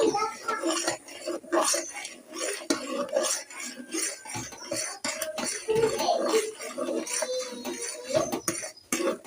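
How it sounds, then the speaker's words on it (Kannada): Spoon stirring milk powder into a payasa mixture in a pot, irregular scraping and clinking strokes close by, uneven in loudness throughout. "ಹಾಲು ಪೌಡ್ರನ್ನ ಹಂಗೆ ಡೈರೆಕ್ಟ್ ಹಾಕ್ಬಿಟ್ಟು ಅದನ್ನ ಹಂಗೆ ಗಂಟೆ ಕ್ಲಿಯರ್ ತಿರ್ಕೋಬೇಕು"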